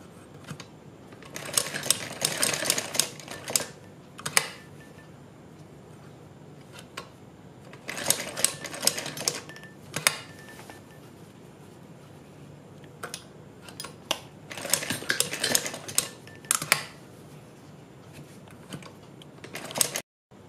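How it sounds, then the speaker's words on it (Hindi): Sewing machine stitching cord onto fabric to form leaf shapes for a salwar hem design, running in several short quiet bursts of rapid clicking stitches separated by pauses, close by with no talk. "इस तरह से हम डोरी के बीच बीच में सिलाई लगाते जाएंगे"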